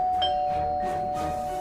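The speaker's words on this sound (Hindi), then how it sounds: "तभी डोरबेल की आवाज आती है" A doorbell rings in a Hindi horror story audio scene, a sustained electronic chime tone with a few soft ding-dong notes over quiet atmospheric background, heard alone.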